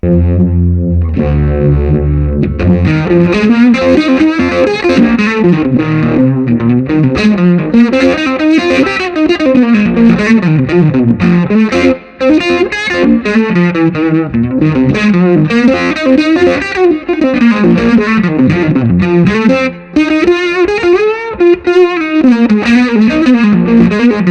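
Electric guitar played through fuzz and Uni-Vibe pedals into an amp for a classic tone, loud and sustained, with a short low riff opening into thick distorted bends and a warbling, swirling modulation throughout.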